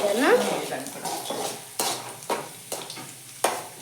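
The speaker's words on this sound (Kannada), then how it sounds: "ಒಗ್ಗರಣೆ ಕೊಡಕ್ಕೆ" Chutney tempering in a pan with garlic and mustard seeds: soft sizzling and frying noise under a run of sharp utensil clinks and scrapes against the pan, close and fairly quiet.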